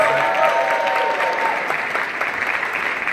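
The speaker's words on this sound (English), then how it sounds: "Let's give them a round of applause" A conference audience applauds award winners at a national dropout conference, steady dense clapping at moderate volume continuing throughout and easing slightly toward the end.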